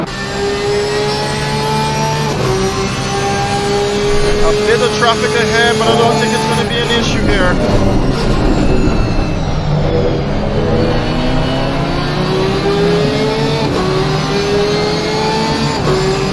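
GT3 race cars at Misano during the Caribbean GT3 Championship, engines droning and revving steadily with gear shifts and rising pitch as they accelerate, loud and continuous under a commentator's voice.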